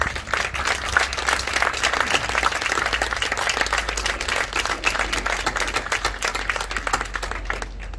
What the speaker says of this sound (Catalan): així que si us plau, un fort aplaudiment.